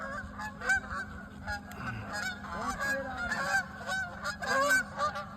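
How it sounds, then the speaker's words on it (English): Geese honk repeatedly as they take off from a lake, their loud, overlapping calls rising and falling in an irregular flurry close by. "Geese are taking off again"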